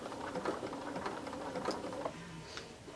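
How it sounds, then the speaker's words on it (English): A sewing machine stitches coiled rope into the base of a bowl with a regular number 1 foot, running fast with a steady whirring, rattling drone, close and continuous, with faint ticks over the motor hum and no talk. "I'm going to stitch this out to about 6 inches"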